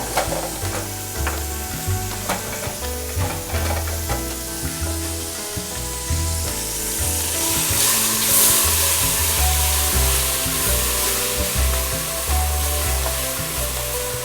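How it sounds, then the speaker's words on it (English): Browning meat for a beef stew sizzles loudly and steadily in a pan, with the scrape and clatter of a wooden spoon stirring it throughout. "Give this brown meat a stir, or browning meat."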